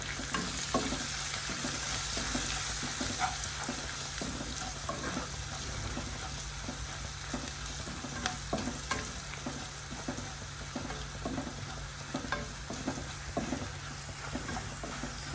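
Two sprigs of curry leaves fry in a pan for tomato masala, giving a steady, close sizzle with repeated clinks of stirring throughout and no voices.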